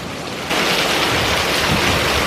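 Heavy rain pouring down as a storm arrives, a dense, loud, steady hiss that swells sharply after a brief quieter moment and then holds at full strength.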